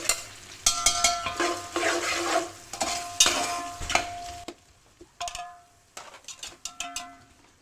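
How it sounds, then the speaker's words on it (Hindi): Onions and whole spices frying in ghee for chicken biryani, with a steady sizzle under close, repeated metal stirring clanks against the pot that grow sparser and quieter toward the end. "अभी हमने इसमें तकरीबन प्याज ऐड कर दिया है, साथ में खड़े मसाले भी ऐड कर देंगे।"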